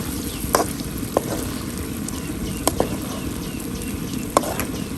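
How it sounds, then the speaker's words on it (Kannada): Egg ghee roast sizzles gently in a pan as a spatula stirs it, leaving occasional sharp clicks and scrapes against the pan over a constant frying hiss; no one speaks. "ಲೈಟಾಗಿ ಮಿಕ್ಸ್ ಮಾಡಿದರೆ ಆಯಿತು."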